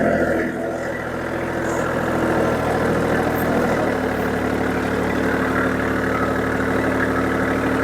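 A tractor working clay ground while building swales runs steadily with the diff lock engaged, its engine a loud, continuous close drone that shifts slightly in tone partway through.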